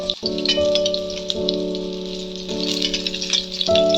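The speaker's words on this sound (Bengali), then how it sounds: "দেখো বন্ধুরা আমার দু মাছগুলো সুন্দর হয়ে ভাজা হয়ে গেছে এবার আমি আস্তে আস্তে করে মাছগুলো তুলে নেব" Katla fish pieces fry in hot oil, giving a crackling sizzle with small pops, while a steady droning hum sounds loudly in the foreground.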